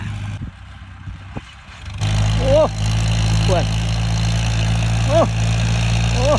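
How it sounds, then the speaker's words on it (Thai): A Kubota 5018 tractor's diesel engine idles steadily with a deep, even rumble up close, while someone talks loudly in bursts over it. "เสียงนี่ สุดยอด ทางพวดพวดเลย เสียงนี่ เหมือนรถไถใหญ่"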